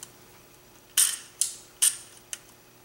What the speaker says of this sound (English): Shave those off with a razor knife.